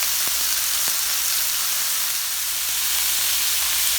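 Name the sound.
palomilla steak searing in a pan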